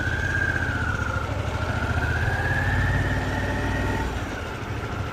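A motorcycle ridden at slow speed while looking for a parking spot: a steady, moderately loud low engine rumble with a faint rising and falling whine, easing off slightly near the end.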